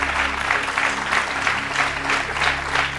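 A television game-show studio audience applauds loudly, a dense, steady roar of many hands clapping close and full, with slight swells in intensity and no talk over it.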